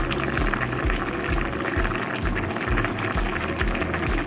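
A pot of noodles bubbles at a vigorous boil, dense popping and gurgling that stays steady and close throughout.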